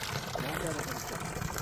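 Glacier meltwater runs straight down from the mountain into a high camp near Chitkul, a steady broadband rush and trickle close by, with voices murmuring over it.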